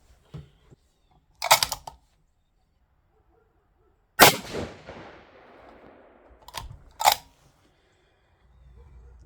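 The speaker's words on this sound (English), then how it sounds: "get on the gun, and shoot again." Gunshots from a rifle at a shooting position: a loud, sharp crack with a long decaying tail midway, flanked by clicks and clanks of handling the gun, set against otherwise quiet surroundings.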